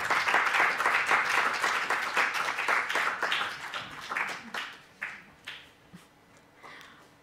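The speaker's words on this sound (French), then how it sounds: "Vous pouvez l'applaudir." An audience applauds at a closing ceremony as André Gladu comes up to receive a museum award; full, dense clapping at first, then thinning out into scattered individual claps that fade.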